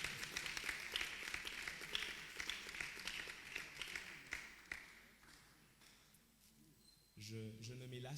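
A church congregation applauds at a French-language service, a dense, fairly distant patter of clapping lasting several seconds before fading, after which a voice begins speaking.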